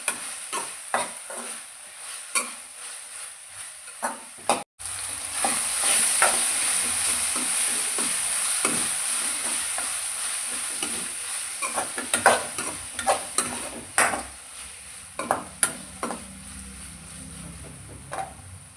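Tomato frying in a pan for a gobi and green peas curry, a steady close sizzle with a louder burst of spitting around the middle, broken by repeated scraping and clinking stirs throughout, with no talking.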